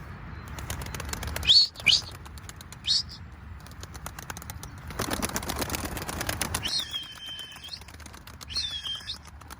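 Pet birds flutter and flap their wings in a few quick bursts, with high chirps and tweets scattered over a steady background hum.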